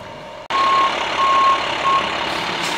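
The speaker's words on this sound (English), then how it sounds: "So they're just watching the delivery truck make a little backup here." A delivery truck dropping off cranberry farm equipment backs up, its reversing alarm sounding three clear repeated beeps over a steady engine hum, close and loud.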